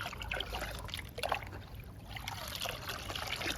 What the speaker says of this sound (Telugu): ఈ వాటర్ని, లిక్విడ్ని కలుపుతున్నాను.